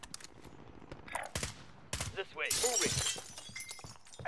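Glass shatters with sharp bursts amid gunfire in a squad shooter game, close and loud, mixed with excited players' voices talking over the action.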